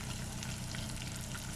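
Mustard seeds fry in hot oil in a pan for prawn pickle, a steady dense sizzle with fine crackling pops, close and continuous without speech.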